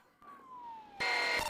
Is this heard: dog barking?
no